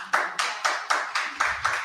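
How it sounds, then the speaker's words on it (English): Audience at a book talk clapping hands in a slow, steady rhythm, seven crisp claps about a quarter second apart, close and fairly loud with no talk over them. "You can clap your hands though to that"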